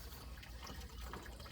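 Fresh water pouring into a container for animals during a heat wave, a continuous close trickling and splashing with no voices.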